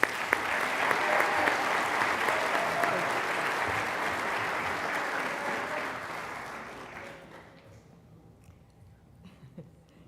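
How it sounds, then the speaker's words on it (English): Sustained applause from an audience honoring students at a high school senior awards ceremony, a dense, steady clapping that gradually thins and fades out over the last few seconds. "one more round of applause for these students"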